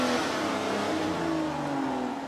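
A luxury car engine, started by a push button, revs steadily and loudly up close, with rising harmonic engine tones throughout and no talking.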